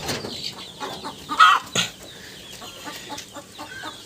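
Native country chickens cluck inside a coop, close and moderately loud, with a cluster of sharp calls and a brief flurry of wing flaps over soft background clucking.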